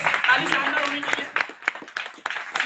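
Audience applause at a stage event, bursts of clapping from a crowd mixed with an announcer's voice calling names, uneven and moderately loud.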